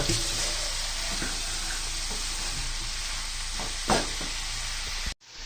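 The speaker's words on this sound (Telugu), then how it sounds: "ఇవన్నీ ఫ్రై అవుతున్నాయి, చూడండి" Vegetables fry in a pan for biryani with a steady, close sizzle that carries on throughout, broken by a brief stirring scrape near the end before the sound cuts off.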